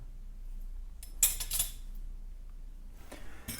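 Silver-plated cutlery, a set of spoons, forks and knives at a flea market, clinks and rattles in a few brief bursts of metallic contact, fairly close, with quiet gaps between.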